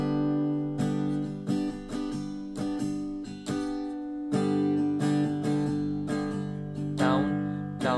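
Acoustic guitar strummed in the down-up pattern for a song from Wazir, steady rhythmic chord strokes with full ringing chords, played close and alone.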